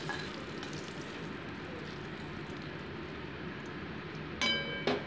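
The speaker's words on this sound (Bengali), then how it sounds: "সেই ডালের বড়িটাকে আমি, এটা কিন্তু আমার ঘরে করার বড়ি, সেটাকে আমি ভালো করে ভেজে তুলে রাখছি।" Homemade lentil dumplings (dal bori) fry in hot oil, giving a steady, close sizzle that holds evenly throughout, with a few sharper spatters and clinks near the end.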